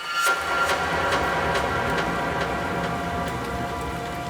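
Steady rain falls in a dense, even hiss with scattered drop impacts, loud and continuous, with no voices.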